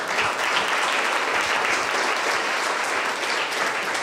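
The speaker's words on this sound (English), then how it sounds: "Give it out another round of applause" Attendees at a crypto meetup in Sofia give a steady round of applause, even, close clapping from a modest indoor crowd, sustained at an even level with no talking.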